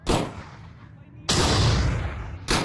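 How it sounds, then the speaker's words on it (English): Two heavy cannon blasts from a Star Wars VRChat game, the cannon powered by kyber crystals, each a loud booming burst that rolls on briefly, with a third beginning at the end. "Fire the cannon. It's powered by kyber crystals."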